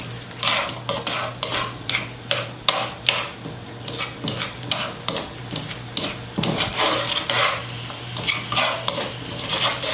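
Two onions cooking down in steak juices with garlic pieces in a pan for Puerto Rican bistec encebollado, a utensil repeatedly scraping and clattering against the pan in a steady rhythm over a soft sizzle.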